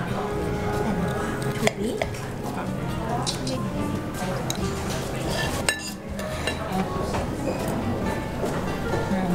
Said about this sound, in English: We're gonna cut into it in just a sec here and give it a go